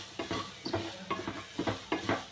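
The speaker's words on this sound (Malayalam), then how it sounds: "2 ഉലുവായും കൂടെ ഇട്ട് നമുക്കിത് വറുത്തെടുക്കാം." Fenugreek seeds, ginger and garlic fry in a pan for a fish curry. A utensil scrapes the pan in steady, rhythmic strokes over a soft background sizzle, close and fairly quiet.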